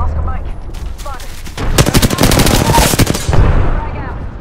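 Loud rapid bursts of automatic gunfire in Apex Legends rattle close by, one sustained volley after a quieter opening with scattered shots.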